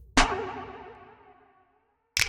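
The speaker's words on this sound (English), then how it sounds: "you can use flange verb to generate unique, evolving soundscapes" A sharp hit blooms into a long, swirling reverb tail with a sweeping, metallic flange, decaying over about a second before another burst begins.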